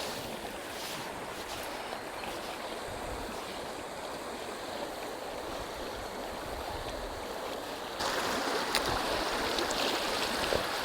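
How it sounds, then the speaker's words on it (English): A river torrent rushing down the centre of a salmon and sea trout river, a steady broadband roar of fast water heard close and loud, growing brighter near the end, with no voices. "It's coming down in a real torrent."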